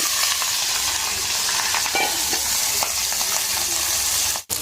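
Turmeric-and-salt-rubbed fish fries in hot oil, a constant close, bright sizzling hiss with occasional soft pops and spatters, cut briefly near the end, no talking.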